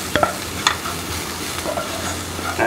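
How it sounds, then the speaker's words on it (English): Dill (suwa) being stirred into a hot pot for a dill rasam, a few soft scraping strokes over a faint steady sizzle, close and quiet with no talk. "Just mix it in a bit."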